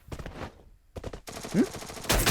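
Gunfire in the mobile battle-royale game Free Fire, a burst of rapid shots with clipped bursts of firing mixed with game sound effects, fairly loud and close, no talking.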